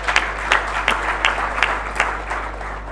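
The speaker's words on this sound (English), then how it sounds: "Please, another round of applause." Scattered claps from an audience at a business roundtable panel, a handful of distinct claps spaced about half a second apart over a humming room, moderately loud.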